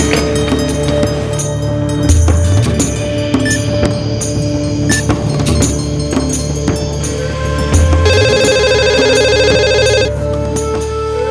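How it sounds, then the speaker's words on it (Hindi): A mobile phone rings in a school staff room, its electronic ringtone repeating a bright melodic pattern over a steady backdrop. It is fairly loud and continuous, with no one speaking. "वो स्टाफ रूम में आपका मोबाइल बज रहा है"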